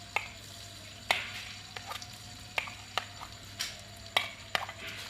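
Crushed ginger and garlic fry in hot ghee for chicken zarda biryani with a steady, quiet sizzle. Sporadic sharp clicks of a utensil stirring against the pan break through it, and no one speaks.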